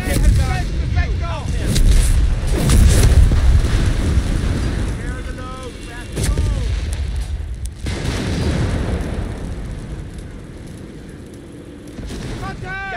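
Artillery fire in the World War II strategy game Company of Heroes 3, with an Afrika Korps force in battle. Heavy booms and rumbling blasts roll through a loud battlefield din, with soldiers' voices calling out between the explosions.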